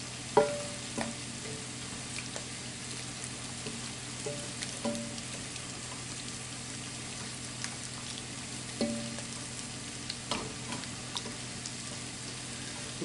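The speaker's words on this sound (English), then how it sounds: "Stir this around, please." Curry fries quietly in a pan, a soft continuous sizzle broken by occasional scraping taps as it is stirred, with no talking.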